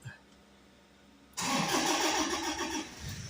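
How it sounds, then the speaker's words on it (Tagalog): A Toyota Hilux diesel engine, just refuelled after failing to start, cranks and catches at once, then runs loud and close in a steady rough idle. Before the start there is only a quiet background. "i-try natin siyang paandarin kung andar na ba ito"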